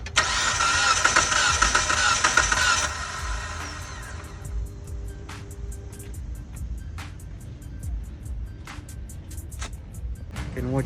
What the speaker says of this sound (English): So I'm about to put everything back and start this car.